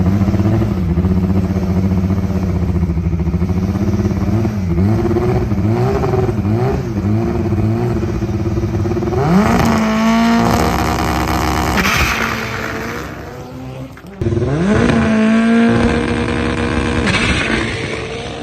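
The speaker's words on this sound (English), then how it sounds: "So we're gonna hop in the car, run up, try and make a pass." A boosted Honda Civic drag car making a test pass at a drag strip: loud, rhythmic revving and staging bursts, then hard acceleration through gear changes, a brief lift, and another full-throttle pull.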